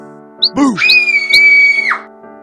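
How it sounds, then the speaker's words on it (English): A girl's scream in a children's Little Red Riding Hood story as the big bad wolf jumps from the bed: one loud, sustained high shriek of about a second and a half, rising sharply and then cut off, heard alone over a soft musical backdrop. "Red Riding Hood screamed."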